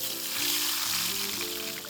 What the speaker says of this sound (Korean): 강준치는 기름을 넉넉하게 두르고 튀기듯 굽습니다.